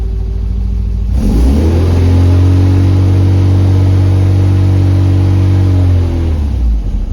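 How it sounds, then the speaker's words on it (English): A classic Mini engine cranks briefly, catches and settles into a loud, steady idle close by for several seconds before cutting off; no voices. "turn the key and it all turns on, does the sweep, and then start the engine"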